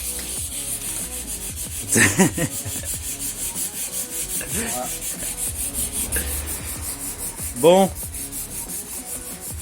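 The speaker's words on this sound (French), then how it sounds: "on va poncer ça au 120 juste pour enlever" A motorcycle fairing is sanded by hand with 120-grit sandpaper in steady back-and-forth rubbing strokes. A few sharper scrapes stand out above the constant close-up rasp.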